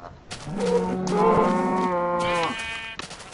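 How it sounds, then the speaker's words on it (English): Cows in the Minecraft video game give one loud, close moo, a drawn-out tonal low that rises and fades across about two seconds, followed by a short softer sound, with no talking over it. "actually, I'm gonna kill some cows."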